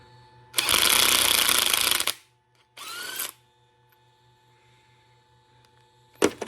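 A wrench spinning a nut along the threads of a bumper bolt on a 1992 Ford F-150 during a Ranch Hand bumper install: a loud rapid ratcheting burst, a shorter second burst, then a sharp click over a steady hum.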